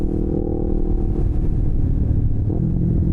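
A rebuilt Yamaha R3 motorcycle on a ride, its exhaust rumbling and burbling with a steady, close engine drone and uneven low pops throughout.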